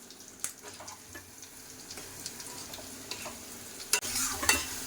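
A spoon stirs marinated mushrooms frying in butter with turmeric, chilli and cumin, giving faint scraping clicks over a soft, steady sizzle that swells louder near the end.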